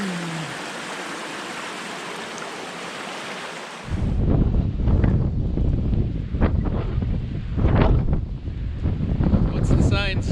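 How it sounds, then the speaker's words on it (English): Steady broadband rush of a flowing creek behind a camper at Vogel State Park, loud and close, at first alone, then joined by clattering, bumping sounds and talk. "the sound of the rushing water was very relaxing"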